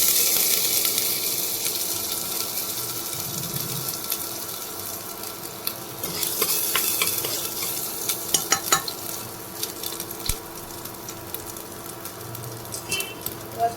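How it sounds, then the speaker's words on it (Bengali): Chopped ginger sizzles in a spoonful of oil in a pressure cooker with a steady close hiss, and sharp clicks and scrapes of stirring come thicker in the second half. "এবারে আদা কুচিগুলো দিয়ে দেবো।"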